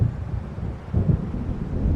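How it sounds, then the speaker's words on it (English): Distant thunder of an approaching storm in the video game Alan Wake Remastered, a faint low rumble rolling beneath wind and waves, swelling midway. "It seems there's a storm coming."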